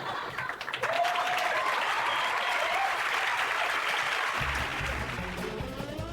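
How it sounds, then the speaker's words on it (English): Sustained audience applause fills a comedy show, a steady loud wash of many hands clapping that holds throughout, with a brief whistle-like tone near the start and the clapping thinning slightly toward the end. "Applaud now."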